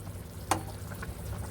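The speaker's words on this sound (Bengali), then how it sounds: "ঝোলটা যখন এভাবে ফুটতে থাকবে আর দেখবেন আলুগুলো সিদ্ধ হয়ে গেছে" Potato curry broth with potatoes simmering at a boil in a pot, giving a soft, steady bubbling and faint sizzle close by, with one brief louder pop partway through.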